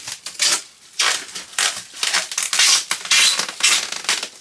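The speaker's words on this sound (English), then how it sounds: "flip it back over and cut the shrink wrap loose" Plastic shrink wrap on a newly unboxed cue lathe being cut loose and pulled away, a run of loud crinkling, tearing bursts in irregular rhythm, close up with no talking.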